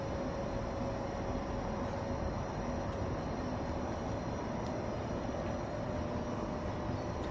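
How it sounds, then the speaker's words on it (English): Northern class 158 diesel unit arriving at platform 1 of Meadowhall Interchange, Sheffield, heard as a steady, close, continuous rumble with a faint humming tone throughout and no talking. "And arriving to platform 1 is the 10:41 Northern service to Sheffield."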